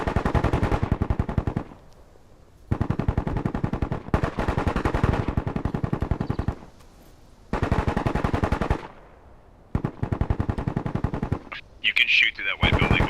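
Loud machine gun fire in the video game Bellum comes in long rapid bursts separated by brief pauses, with a faint voice in between.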